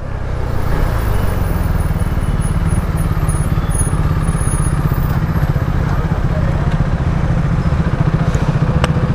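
A fully modified KTM RC 390 BS4 motorcycle with carbon fibre parts runs with a loud, close, steady engine drone and a fast pulsing rumble throughout, with no break or gaps.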